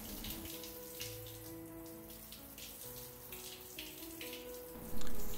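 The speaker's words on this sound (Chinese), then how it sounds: "可以用花灑或者喺依個 花灑板嗰度咧就直接噴水出嚟" A shower panel in a marble-floored shower enclosure of a new flat sprays water in a steady, close hiss, with soft tonal background music underneath and a louder burst near the end.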